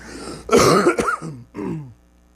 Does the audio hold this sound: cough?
yes